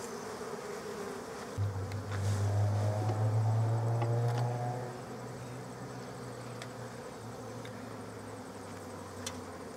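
Honeybees drone softly and continuously as they are moved into a long bench hive, with a louder, close buzz passing for a couple of seconds before settling back to a faint hum.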